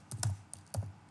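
Computer keyboard typing as a formula is entered: a few quick, close keystrokes in two short bursts, crisp clicks with a soft thud beneath, no voice.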